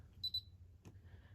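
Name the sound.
AEG L9FENS96 washing machine beep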